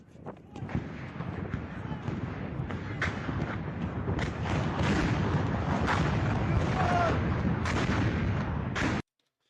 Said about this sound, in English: you can start hearing the shells landing behind him